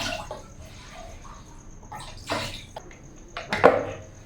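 Water sloshes and splashes in uneven bursts as a whole chicken is washed by hand in water mixed with turmeric, rock salt and vinegar, with a sharper splash near the end.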